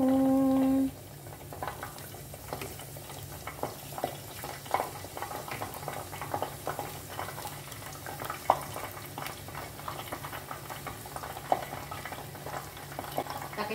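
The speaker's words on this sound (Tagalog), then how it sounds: "Prito na tayo ng talong." Eggplant sizzles and crackles as it fries in a pan, a steady hiss dotted with sharp pops and spatters, after a brief tonal beep at the start.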